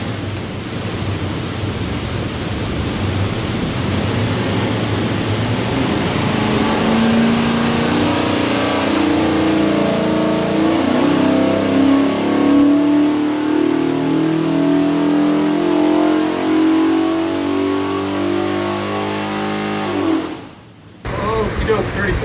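A 530-horsepower 427 Ford V8 built for a 1967 Mustang runs on a dyno, a loud, sustained, close engine roar whose pitch climbs steadily through a long pull before it cuts off abruptly near the end.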